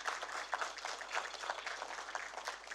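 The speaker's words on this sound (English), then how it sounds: "Give yourselves a round of applause." Conference audience applauding at a Caribbean civil society and NGO Day event, a steady wash of many hands clapping at moderate distance, continuous throughout with no voices over it.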